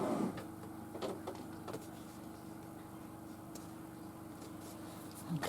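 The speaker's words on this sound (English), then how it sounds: "on my sewing machine, I'm just going to probably 1/4 inch over, I will stitch that with a zigzag stitch onto there" A sewing machine runs a zigzag stitch about a quarter inch in from the edge, giving a steady close mechanical whir with light rhythmic ticking and a few sharper clicks.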